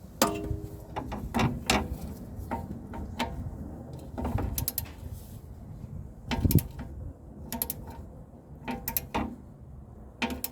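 Torque wrench tightening wheel hub bolts on a 2010 Toyota Corolla 1.8 during a rear brake job, a series of close ratcheting clicks in uneven bursts, with metallic taps and a few sharper clacks.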